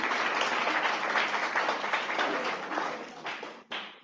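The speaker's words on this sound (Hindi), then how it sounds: "एक जोरदार तालियां उनके लिए।" Loud, sustained applause from an audience filling a decorated college hall at an institute event in Ghaziabad, steady for about four seconds before a brief dip and a short final burst.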